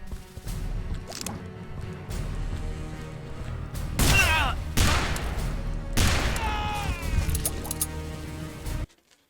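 Gunfire in the video game Call of Juarez, repeated sharp shots and bursts over continuous game ambience, moderately loud and close.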